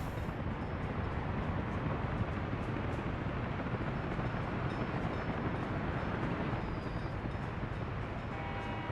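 A steady, dense rumble of rolling train noise in the video game Workers & Resources: Soviet Republic fills the whole stretch, constant and fairly loud with no voices.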